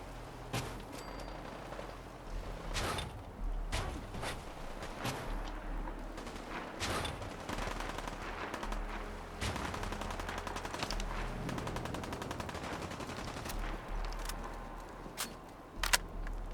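Gunfire crackles in Fallout 4, with bursts of machine-gun fire and scattered single shots in a long, steady exchange, some near and sharp, others farther off.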